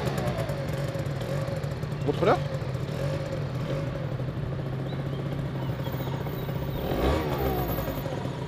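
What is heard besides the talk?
new scooter engine starting and running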